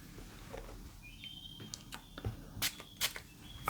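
A Maison Martin Margiela By the Fireplace perfume atomizer sprayed, two short, sharp hissing bursts in quick succession near the end, close and crisp, after soft handling clicks.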